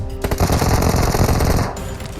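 Loud, rapid automatic gunfire in PUBG Mobile, one sustained close burst of fast repeated shots that cuts off abruptly, leaving a quieter tail.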